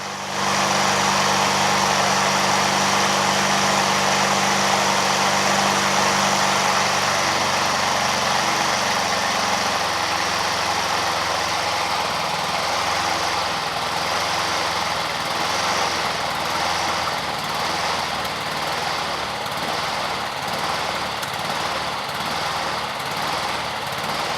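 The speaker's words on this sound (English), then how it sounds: "I'm going to lower the idle." A Honda Harmony II HRT216 push lawn mower engine idles steadily and loudly up close, its low throb settling slightly lower partway through as the idle is turned down, with no talking.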